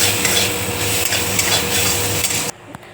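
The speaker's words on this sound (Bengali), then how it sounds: "এবার এটাকে ভালো করে নাড়াচাড়া করে মিশিয়ে নেবো" Food is stirred and mixed with tomato ketchup and ground pepper in a pan, giving busy scraping and knocking over a dense rustle that stops suddenly, followed by a couple of faint taps, with no talking.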